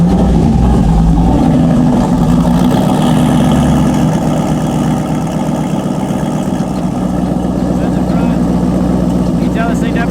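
A turbocharged LS-swapped Foxbody Mustang idles steadily and loud at close range, a deep, even engine rumble with a slight lope running throughout.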